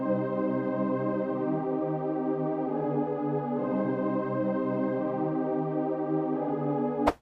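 Dark trap melody played on bell tones with the low end cut by EQ, a steady sustained harmonic loop holding at an even level, alone without drums or talk, ending in a sharp click.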